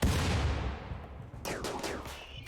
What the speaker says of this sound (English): Throwing hand grenades at my turret there.